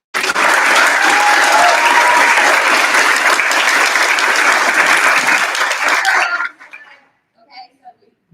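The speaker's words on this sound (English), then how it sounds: "let's go ahead and just give them another round of applause." A conference crowd applauds with dense, loud, sustained clapping that fades out, followed by a few scattered clinks and faint noises.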